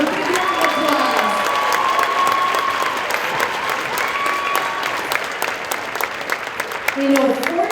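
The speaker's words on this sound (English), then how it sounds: "Let's give them a big round of applause." Audience applauds musicians who play a Hardanger fiddle and keyboard at a Norwegian cultural afternoon. Sustained clapping mixes with a few cheers and voices before it tapers off toward the end.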